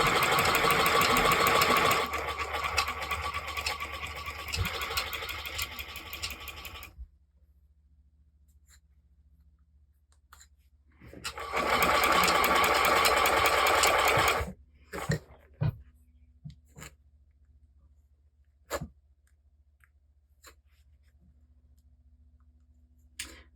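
An electric sewing machine stitching fur mittens runs in two steady loud bursts, a few seconds each, separated by quiet, followed by scattered sharp clicks and handling noises.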